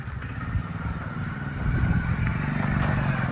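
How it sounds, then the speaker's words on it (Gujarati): A motorcycle engine draws nearer outdoors, its steady mid-range drone and exhaust putter growing louder and fuller over a few seconds, alone with no voices. "સંજય આવે છે બાઈક અને અમે ગેટ સુધી ચાલતા ગઈએ."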